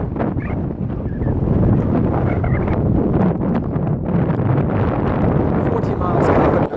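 Strong wind buffets the microphone on an exposed road during a ride on an ElliptiGO 11R stand-up elliptical bike, a loud continuous rumble and roar that barely lets up throughout.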